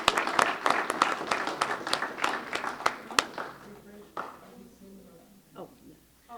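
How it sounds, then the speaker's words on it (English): A small audience at a monthly club meeting claps briskly for a few seconds, sharp individual claps standing out, before the applause fades and people begin talking. "Let's give them a round of applause."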